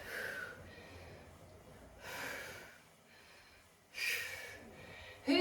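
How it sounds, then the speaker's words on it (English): Deep, slow breaths after an indoor cycling workout, three audible inhale-exhale cycles spaced a couple of seconds apart, close and soft, with faint speech-like sounds present. "Nice deep breaths."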